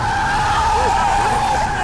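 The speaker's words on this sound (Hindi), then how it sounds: "ब्रेक जाम हो गए और स्टीयरिंग भी नहीं हिल रहा है।" Car skidding with its brakes jammed, in a Hindi-dubbed Hollywood horror film: a continuous loud tire screech with wavering pitch over engine rumble, sustained throughout.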